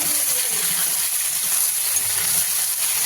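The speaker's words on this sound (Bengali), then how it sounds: "এবার আমি আলুগুলো দিয়ে দেবো এর মধ্যে।" Potatoes tipped into hot oil with fish for a Bengali curry, giving a loud, even, continuous hiss and sizzle that carries on steadily without any talking.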